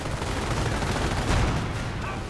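Dense machine-gun and rifle fire crackles in a real-time strategy battle, rapid overlapping bursts forming a continuous loud barrage that swells briefly midway.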